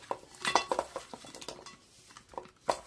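Sardines being mixed by hand with spices in a bowl, giving irregular wet clicks, taps and scraping knocks against the bowl, close and intermittent with quiet gaps between.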